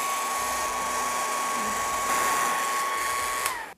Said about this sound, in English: I'm gonna take my very old hair dryer, put it on the cool setting and the cool low setting.